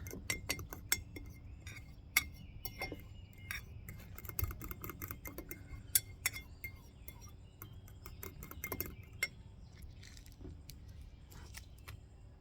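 A spoon clinks and scrapes against the inside of a cup of instant grits and hot water in quick, irregular taps, close by, with a low background hum.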